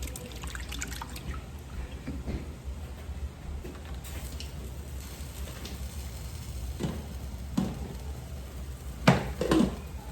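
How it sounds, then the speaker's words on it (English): Water runs and splashes steadily as excess salt is rinsed off saltfish for a Jamaican meal, with scattered drips and a few louder clinks and splashes near the end. "I'm washing the excessive salt off the saltfish"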